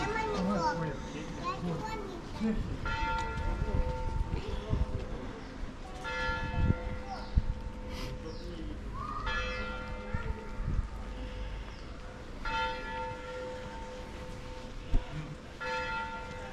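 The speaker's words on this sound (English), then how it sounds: "it's 11 o'clock. 11 bells." Church bells ring the hour of eleven in Karlovy Vary, steady strokes carrying over a street where children play and people talk.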